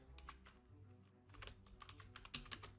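Quiet keystrokes on a computer keyboard as the body of a test email is typed, with soft irregular clicks in short runs over faint background hum and no voices.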